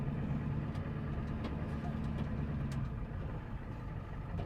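A 1989 Ford F250 with an IDI diesel engine idles steadily with a low, constant rumble and occasional faint clicks, heard from a modest distance.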